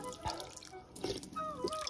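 Sweet drinking water runs from a village spring spout, a faint close trickle with irregular drips and splashes.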